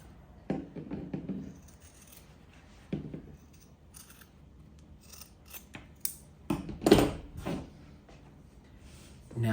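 Scissors snip through the thick seam allowance of a wool car coat collar, a few separate close cuts spread across a quiet room with light handling noise between them.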